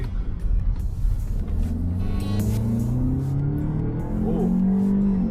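A Toyota Camry fitted with an HPS cold air intake revs hard, its engine note climbing in loud, deep sweeps that hold and rise again, close by with no talking.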